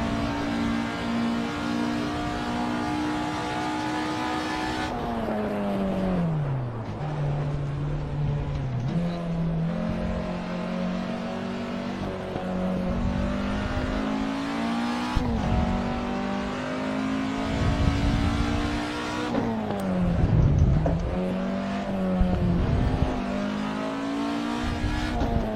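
Race car engines in a ten-lap racing video game, a continuous loud drone whose pitch climbs and drops repeatedly with gear changes and braking, with no talking.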